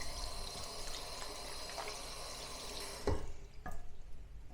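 Tap water running steadily into a sink while hands are rinsed, a close continuous splashing hiss that breaks off into a few irregular splashes as the flow stops.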